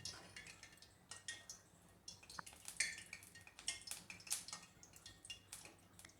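Fried raw banana chips tipped into a metal strainer, giving quiet scattered clinks and rattles of the crisp chips against the mesh, with soft drips of oil and a low hum underneath.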